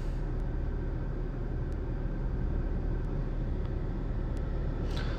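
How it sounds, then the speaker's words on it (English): A BMW car engine idles steadily at close range, a continuous low rumble holding even throughout with no voices over it. "My vehicle is running right now."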